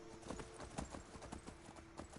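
Horse hooves clop in a quick, steady rhythm in Skyrim on PS4, a muffled, fairly quiet run of repeated hoof beats.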